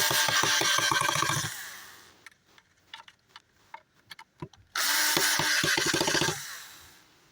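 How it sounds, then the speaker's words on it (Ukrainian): A screwdriver drives a screw while a car radio, an Android Junsun unit replacing the stock one, is installed: two loud buzzing runs framing a stretch of scattered small clicks and taps, close and without talk. "Далі ми беремо викрутку і аналогічно закручуємо."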